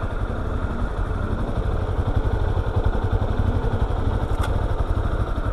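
A beige Yamaha XTZ 250 Lander motorcycle runs with a steady, fast single-cylinder putter close by, the engine holding an even idle throughout with no talk over it.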